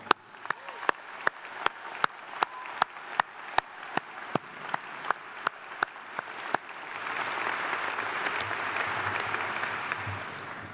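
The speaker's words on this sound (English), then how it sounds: "A round of applause for Ken." Graduation ceremony crowd in a large commencement venue: a few loud, evenly spaced single claps ring out near, then swell after several seconds into broad, sustained applause from the audience.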